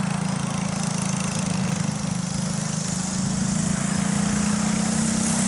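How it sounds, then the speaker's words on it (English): A backyard go-kart engine at the 1061 Speedway track runs with a steady, buzzy drone and a strong low hum, holding a constant pitch without clear revs, close and loud with no talking. "Revving up that engine and comes around for the green flag"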